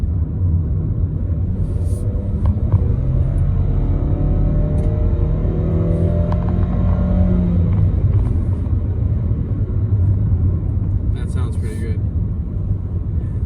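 A 2021 Nissan Rogue Platinum, switched into sport mode, is heard from inside the cabin as a steady road rumble and a rising engine tone under acceleration, with a voice talking over it at times.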